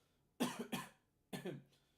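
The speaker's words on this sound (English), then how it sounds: "Getting a bit of a cough, I think." Two quick harsh coughs, then a third a moment later, close up and fairly loud, with no talking.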